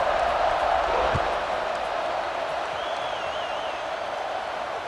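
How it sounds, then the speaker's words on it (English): Football stadium crowd after a score, a broad, steady buzzing roar of many voices, distant and sustained, with a brief thump partway through. "this crowd is buzzing after that last score"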